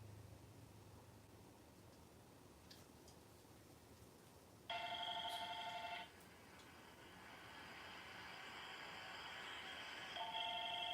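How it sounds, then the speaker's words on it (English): A cordless phone rings in a quiet room, its electronic tone sounding in two separate bursts, the second following a longer stretch of faint hiss. "Let's see if I can find the cordless phone."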